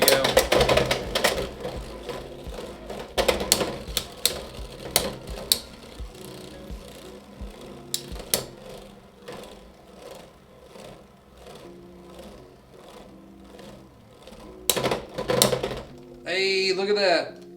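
Die-cast metal battle tops spin and collide in a Takara Tomy arena, producing sharp, rapid metallic clacks and rattling hits in bursts, close and loud, with talking over parts of it.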